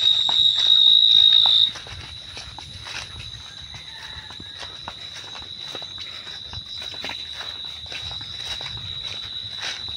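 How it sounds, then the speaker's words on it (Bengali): Crickets chirp in rural farmland near Gazipur, outside Dhaka, at dusk, making a steady high-pitched trill that runs throughout. It starts louder, then softens, with scattered footstep-like crunches and faint background rustle. "ঝিঝি পোকা ডাকছে, শুনতেই পাচ্ছেন।"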